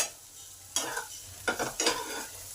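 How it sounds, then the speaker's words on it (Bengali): Cumin and coriander powder being stirred in a pan, giving three short scraping, sizzling strokes close up against a quiet kitchen background. "2 মিনিট মশলাটাকে একটু নেড়ে নেব"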